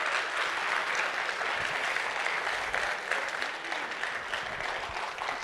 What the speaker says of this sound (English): So if you can help me give them a round of applause for a wonderful presentation